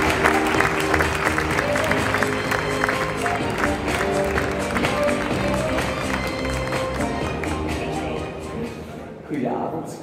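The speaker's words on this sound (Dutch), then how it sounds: "Dames en heren, uw applaus voor staatssecretaris van de Gelijke Kansen," An audience applauds the state secretary for equal opportunities, Zuhal Demir, with dense clapping under music that tapers off, followed by a brief voice near the end.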